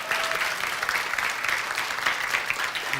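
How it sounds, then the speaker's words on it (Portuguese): A church congregation at a celebration service claps together in a brief, steady round of applause, many hands blending into a dense, moderately loud patter. "Mais uma vez uma salva de palmas."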